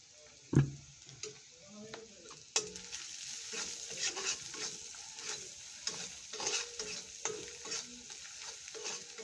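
Chickpeas being stirred with coriander and turmeric powder in a frying pan, a spoon scraping and clattering in repeated strokes over a low, steady sizzle, close by.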